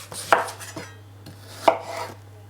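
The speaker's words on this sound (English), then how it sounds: "so now we're going to dice up our onion" A knife dicing an onion on a board, two distinct chops spaced about a second apart, close and fairly quiet over a low steady hum.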